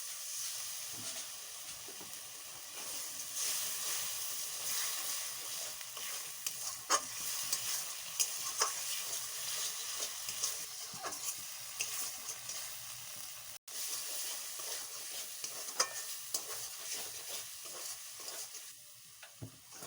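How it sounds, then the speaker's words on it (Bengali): A paste of ground dried red chillies and spices is fried and stirred in a pan for a drumstick chorchori, giving a continuous hiss and sizzle with scattered scraping stir sounds throughout. "শুকনা লঙ্কা বাটা মশলাগুলো এবার ভালোভাবে আমি কষে নেব"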